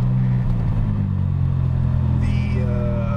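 A lightweight Suzuki Cappuccino kei car, weighing about 1,600 pounds, drones steadily from inside the cabin as its small engine pulls while driving, a buzzy, motorcycle-like hum with a rising whine near the end, and voices are present.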